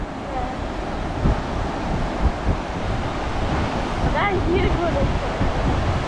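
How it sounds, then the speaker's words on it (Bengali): Sea waves roll and break continuously on the beach at Cox's Bazar, a loud, broad wash of surf mixed with wind buffeting the microphone, and faint voices carry in the background. "সো বিউটিফুল দেখছো সমুদ্রের ঢেউ আসতেছে দেখো"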